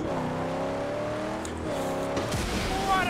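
Car driving in the post-apocalyptic video game Mad Max: a steady, fairly loud engine drone with shifting harmonic pitch as it revs and accelerates, a brief tonal change near the end, no talking.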